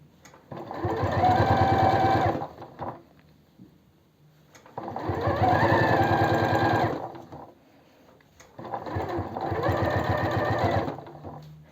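Sewing machine stitching along the piping on pajamas, running in three long bursts of steady rapid needle chatter separated by short pauses, loud and close with no voices.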